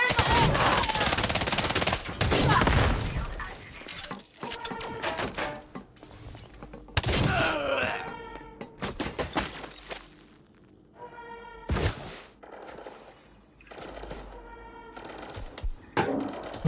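Weapons fire in the Elite Dangerous game comes in loud, rapid bursts of gunfire with repeated sharp shots and pauses between volleys, plus scattered impacts.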